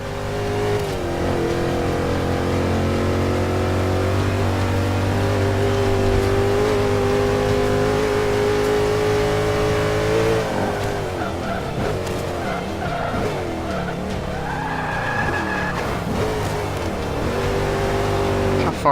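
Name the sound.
SLR McLaren hitting 200 and spinning out in Forza 5 video game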